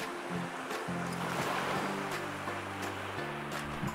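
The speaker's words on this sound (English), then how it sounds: "this is the view of the beach. No one around here." Ocean surf washes steadily onto an empty beach at Rameswaram, a continuous broadband rush with a low engine-like drone mixed in underneath and no voices.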